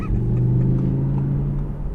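A 2018 Audi R8 V10 RWS with a 7-speed S-tronic transmission cruises down the road, its engine giving a steady, loud low rumble from inside the car with no talking.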